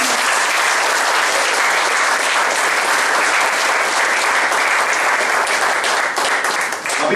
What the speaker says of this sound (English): please clap for Shri M.R.